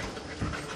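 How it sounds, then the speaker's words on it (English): A wolf hybrid dog pants dryly in a small space, a steady rapid breathing texture with a slightly louder burst midway, close and continuous with no talking. "Hear the respiration, that dry panting."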